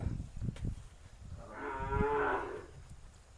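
A single long, low moo from a Hallikar cow rises midway, close and clear, over a quiet farmyard with some soft rumbling and shuffling beforehand.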